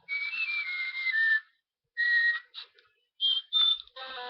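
A whistle sound effect from a Nintendo DSi voice-changing feature plays as several clear, thin electronic whistled tones with sliding pitch, separated by short silences.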